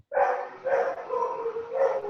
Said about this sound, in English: So in the background, we have the dogs in the background.